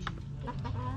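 Rhode Island Red chickens cluck close by in quick, choppy bursts, several short calls tumbling over one another in a brief farmyard moment.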